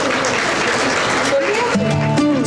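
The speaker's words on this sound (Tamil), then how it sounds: "அவர்களை ஒரு பலத்த கைத்தட்டலுடன் மேடைக்கு வரவேற்போம்" Audience clapping at a school annual day cultural costume parade as children come onto the stage, loud and dense, with voices and music rising through it toward the end.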